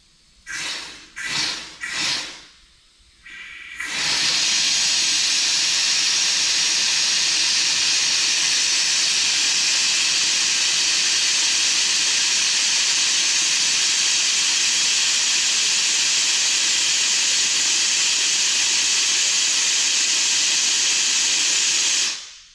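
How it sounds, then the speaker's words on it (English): Compressed air blasts a car part clean on a drag week hot rod, with a few short hissing bursts followed by one long, loud, continuous high hiss that cuts off at the end. "Get the air again. Blow it clean."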